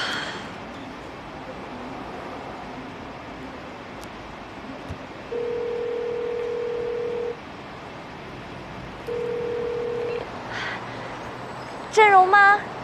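A phone call ringing out: two long, steady ringback tones spaced apart over quiet room hiss, followed by a brief burst of sound as the line connects.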